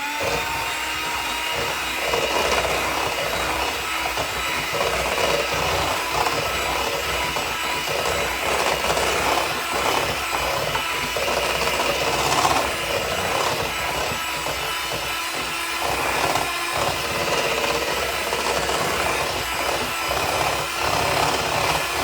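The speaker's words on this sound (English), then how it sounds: "I'm gonna mix this up again with my loud hand mixer" A loud electric hand mixer whirs steadily as it beats a chocolate avocado batter, a continuous buzzing drone with scraping rattles running the whole time, no voices.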